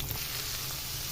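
Onion pieces just dropped into hot oil with tempering spices and green chillies, giving a soft, steady close sizzle and hiss over a low background hum, no talking.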